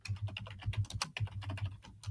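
Rapid, steady typing on a computer keyboard, close and clear, with brisk irregular key clicks and no voices.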